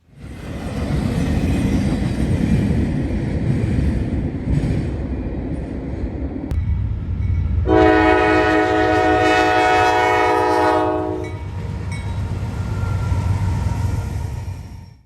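A freight train near Marion rumbles past loudly with steady rail noise, and a long blaring horn chord sounds midway for several seconds before the rumble continues.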